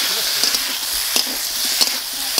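Spice paste, slit chilies and chopped tomato fry in a pan with potato and ridge gourd, giving a steady close sizzle broken by a few sharp spoon scrapes as they are stirred.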